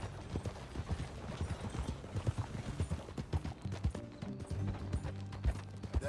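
Horse hooves clip-clop in a steady rhythm during riding in Red Dead Redemption 2, close and continuous, with faint creaks of tack and gear mixed in.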